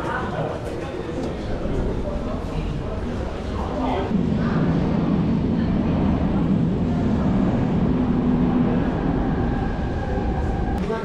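Steady rumble and rattle from inside a moving train arriving at the last town of Cinque Terre, continuous and fairly loud throughout, with no clear speech.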